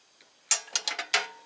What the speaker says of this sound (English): I loosen the lug.